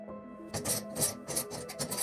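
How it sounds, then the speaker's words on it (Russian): Wire is wound into a spiral on a knife clamped in a bench vise, giving quick rasping metal scrapes in short rhythmic bursts, close and quiet. "При помощи плоскогубцев зажимаю нож и проволоку в тисках и наматываю спираль."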